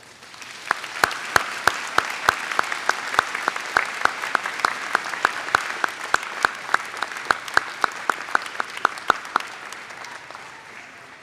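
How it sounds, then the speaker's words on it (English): Steady applause from a large crowd at a university commencement ceremony, dense clapping that carries on evenly for several seconds with a few sharper individual claps standing out. "Please join me in a round of applause for our faculty."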